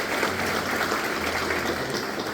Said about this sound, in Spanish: Fuertes esos aplausos merecidos.